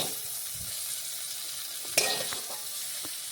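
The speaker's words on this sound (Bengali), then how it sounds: "উল্টে পাল্টে পটলগুলো লাল লাল ভেজে নিয়েছি। এখন আমি পটলগুলো তুলে নিচ্ছি।" Pointed gourds fry in hot oil in a wok, making a steady low sizzle, with one sharp scrape and clatter from stirring or lifting them out near the middle.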